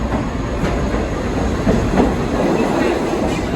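A New York subway train on the 7 line runs underground, a steady loud rumble with faint rhythmic wheel clatter throughout.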